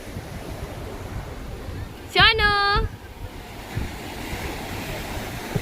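Sea waves wash onto the shore at Devka beach, Daman, as a steady broadband surf roar under wind noise, with a brief child's vocal cry in the middle.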